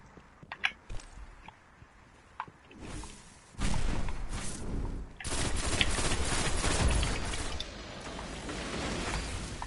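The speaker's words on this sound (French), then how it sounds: "j'ai mis une rafale au pif dans un tout petit trou" A burst of automatic fire in a team shooter game, with a few scattered clicks and shots first, then dense, sustained rapid fire that stays loud and close to the end.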